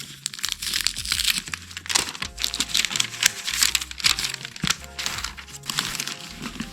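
Away travel toiletry bag being unwrapped, with close, continuous crinkling and rustling of packaging material and sharp tearing bursts, loud and busy throughout with no talk.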